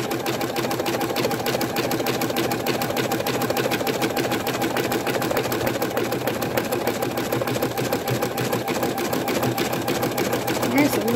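A Viking Designer embroidery machine stitches an outline on minky fabric in a magnetic hoop, a steady, fast mechanical whirring and ticking that runs close and continuous throughout, with a voice speaking over it.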